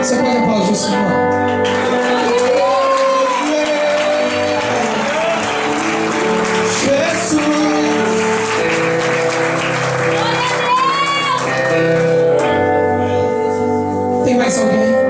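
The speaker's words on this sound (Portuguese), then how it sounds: "Você pode aplaudir o Senhor?" A church congregation applauds in a sustained wash of clapping that carries on for the whole stretch, with shouts and voices of worshippers mixed in and a musical backing underneath.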